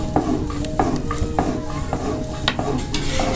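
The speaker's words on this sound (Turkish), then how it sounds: "Böyle bir defa karıştırsanız yeterli" A metal spoon stirs sugar into menengiç coffee in a small pot, giving a close, rhythmic run of ringing clinks against the pot over a soft hissing bed.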